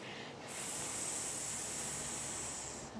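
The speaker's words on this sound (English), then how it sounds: "the healing sound for the lungs" A soft, steady hissing exhale of the qigong healing sound for the lungs, a breathy airy rush sustained for about two and a half seconds after a brief quiet start, close and gentle with no talking.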